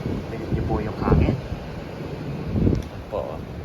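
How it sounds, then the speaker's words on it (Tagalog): Strong blizzard wind rushing and buffeting the microphone in a snowy backyard in Saskatchewan, Canada, a steady roar with a couple of louder gusts and a faint murmur of voice. "Rinig nyo po yung hangin."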